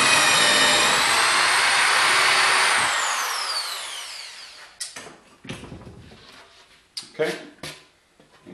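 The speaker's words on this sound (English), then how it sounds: "we're going to stick with the 25/64 drill on the larger hole." A power drill with a 25/64 drill bit bores a larger mounting hole for a wind turbine alternator, whining loudly and steadily before winding down, followed by scattered clanks and handling noises and someone talking.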